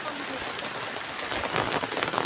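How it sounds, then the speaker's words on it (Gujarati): Rain falling in a village setting, a steady broad hiss of drops that swells slightly toward the end, with no talk over it. "એ વરસાદ ચાલુ થઈ ગયો ભાઈ પાછો।"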